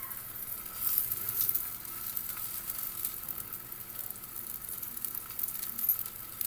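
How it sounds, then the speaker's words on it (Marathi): A chili cheese pocket sizzles on a hot griddle with a soft, steady hiss and faint crackle that continue throughout at low volume. "तर आपण आता दुसरा चिली चीज पॉकेट ठेवतो तव्यावरती"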